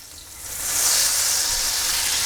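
A knob of butter and a few tablespoons of olive oil sizzle in a single frying pan, a steady close hiss that swells after the first half-second and then holds evenly, with no voices.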